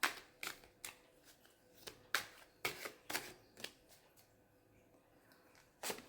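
Tarot cards are shuffled and drawn close by, a string of soft, sharp flicks and slaps spaced irregularly with quiet gaps between them.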